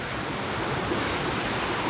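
Mae Kampong waterfall on its second tier, heard as a steady, dense broadband rush of falling water that holds at an even level for the whole stretch, with no voices over it.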